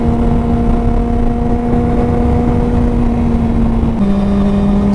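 A 600cc supersport motorcycle rides through traffic with a loud, steady engine drone and strong even harmonics. The pitch drops suddenly near the end, then holds lower.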